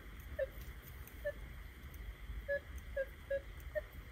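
A Minelab Equinox metal detector sweeping over soil gives short, clear beeping target tones, about six brief chirps spread unevenly over a soft background hiss.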